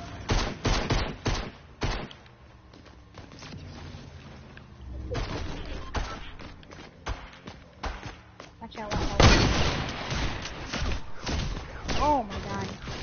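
Gunfire from a hunting rifle in the medieval combat game Chivalry, heard as a run of sharp, loud cracks and thumps scattered through the scene, with game noise and voices talking over it.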